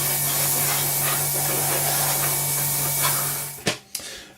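An airbrush sprays light grey paint onto the wing of an Eduard B-24 model kit, giving a close, steady hiss for over three seconds before it cuts off and leaves a few sharp clicks.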